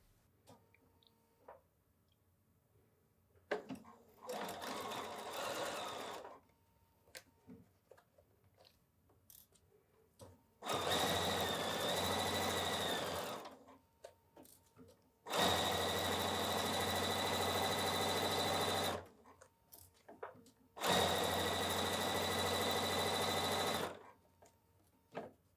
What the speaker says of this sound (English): I'm going to go to the machine, and I'm just going to top stitch this about an eighth of an inch from here all the way down to here